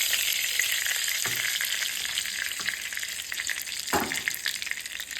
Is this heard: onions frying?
yes